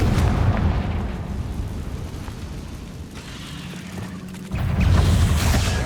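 A Confringo fire spell detonates in the Hogwarts Legacy game, a deep rumbling blast with booming low-end explosions that swell again near the end, heavy and close with no talk over it.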